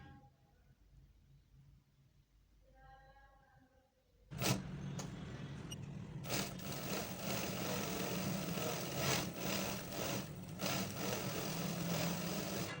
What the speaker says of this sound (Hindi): सीधी साइड की तरफ आपने रख के तो इसको लगा लेनी है सिलाई